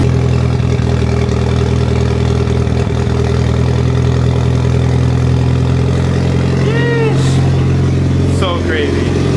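A Mitsubishi Evo 8 idles loud and close with a choppy, uneven burble from an exhaust leak at the O2 housing gasket, while a person talks over it.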